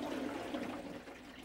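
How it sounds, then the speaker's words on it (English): As the tub of a 1997 Maytag Neptune washer is rotated by hand, the liquid in its sealed balance ring makes a faint, continuous watery slosh and swish. "It's the sound of the sealed balance ring that helps your washer run smoothly and efficiently."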